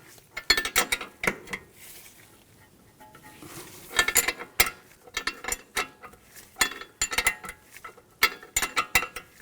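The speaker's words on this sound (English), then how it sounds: "Loosen up the nut." A 16mm wrench and socket loosen the nut on an Audi A4 Quattro control arm bolt, making sharp metallic clinks and ratcheting clicks in irregular clusters, close and crisp against near silence, with no talk.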